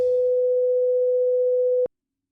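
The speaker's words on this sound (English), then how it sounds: "And here's a 500 hertz sine wave." A pure 500 hertz sine tone holds one steady, clear pitch for just under two seconds, then cuts off cleanly. No other sound accompanies it.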